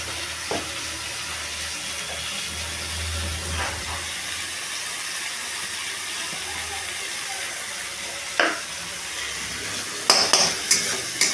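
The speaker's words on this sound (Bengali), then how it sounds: "এটাকে নাড়াচাড়া করতে হবে ভালো করে" Spices and salt are stirred in a cooking pan over steady hissing heat, with a utensil scraping and tapping the pan now and then, louder clinks near the end, all close up and without talk.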